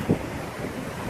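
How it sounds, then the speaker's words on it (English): Wind buffeting a microphone on a walk beside a river prone to flooding, a steady rough rush throughout with a brief louder gust near the start. "Excuse the wind, guys"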